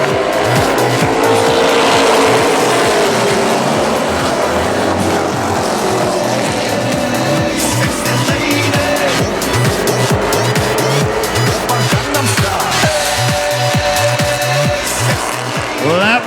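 Super street stock race cars racing at Central Texas Speedway, their engines roaring loud and continuous as they run close together, with tire squeals and rising and falling revs throughout and no talking.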